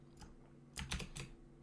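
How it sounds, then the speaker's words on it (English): Quick typing on a computer keyboard, a handful of soft key clicks in a short burst, close and quiet with no talking. "Going up to Google and just typing in things."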